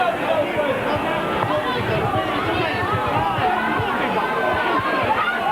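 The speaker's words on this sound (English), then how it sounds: "at last arousing some sort of excitement in the home crowd" Home crowd at a Salford versus Dewsbury rugby league match in 1987, a steady dense hubbub of chatter and murmuring from the terraces, fairly distant and continuous without sharp peaks.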